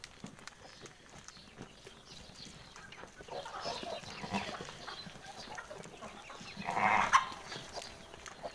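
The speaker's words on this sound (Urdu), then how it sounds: "یہ ادھر بکریاں ہیں اندر, ان کو باہر نکالتے ہیں" Goats in a village pen, heard as faint, scattered animal calls amid low farmyard ambience, with a louder burst of bleating near the end.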